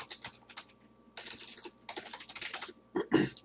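Close, crisp typing on a computer keyboard while entering code for exporting a Microsoft Access table to Excel, delivered in quick bursts of keystrokes separated by short pauses.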